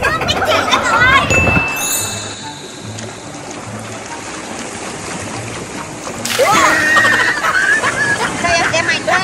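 Water splashing and squirting at the seaside, like a water gun, with loud sloshing and spraying bursts, a calmer trickling stretch between, and excited voices at the start and end.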